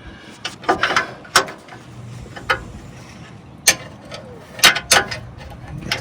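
On a Duramax truck's steering, a bolt is tightened with a torque wrench, giving scattered clicking ratchet sounds and metallic clacks at irregular intervals, close by over faint shop background noise.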